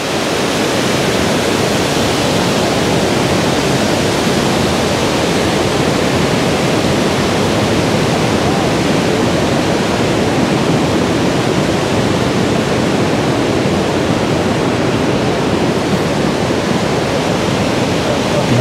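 A swollen river at high water rushes past in a loud, steady roar of churning water with no letup, heard close and alone on a walk through the German countryside.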